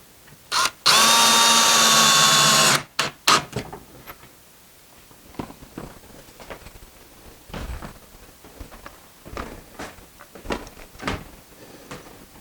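A power drill drives a screw into a garden pergola frame in one loud, sustained whir of about two seconds, then a couple of short bursts, followed by clattering handling knocks and taps of parts nearby.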